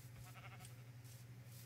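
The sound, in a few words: sheep bleating in Minecraft video game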